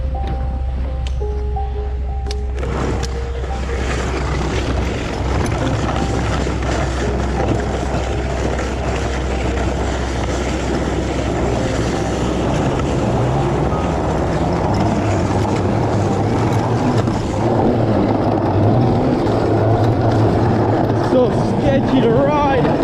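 A 5000W electric mini snow bike ploughing through deep powder snow, a steady loud rushing roar of motor and churning snow throughout, strong and close with wind buffeting.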